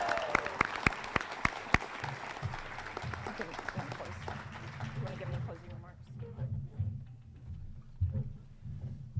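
Applause for graduates at a university hooding ceremony, dense crowd clapping for several seconds that thins out as a speaker begins talking over the fading claps.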